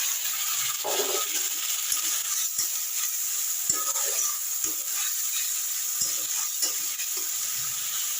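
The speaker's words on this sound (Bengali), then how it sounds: "এবার কিন্তু এই আদা রসুন কাঁচা লঙ্কা টমেটো বাটার পেস্টটা দিয়ে দিলাম" Ginger, garlic, green chilli and tomato paste frying with onions in a pan makes a faint steady hiss, marked by occasional spoon scrapes and knocks over several seconds, with no voices.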